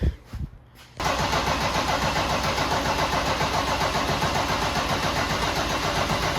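A diesel Toyota 2JZ engine briefly cranks to build oil pressure, then roars to life and settles into a loud, steady idle close by.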